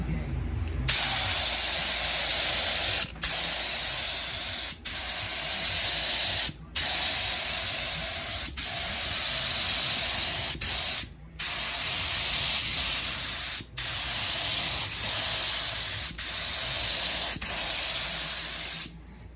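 A cheap spray gun hisses out 2K urethane primer onto a 1990 Mustang GT, loud and close in repeated bursts of several seconds each, with brief gaps between passes.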